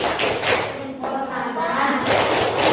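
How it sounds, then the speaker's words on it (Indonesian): Children in an Indonesian classroom perform a thumbs clap routine, giving a burst of fairly close, rhythmic claps and thumps mixed with young voices chanting along. "Kasih tepuk jempol."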